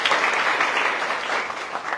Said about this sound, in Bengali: এটা হাততালি দেন এটার জন্য।